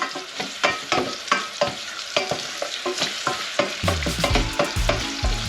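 Garlic and diced ham fry in a pan while being stirred, a steady sizzle broken by rhythmic scraping strokes of a utensil, close and fairly loud, with a low thumping knock near the end.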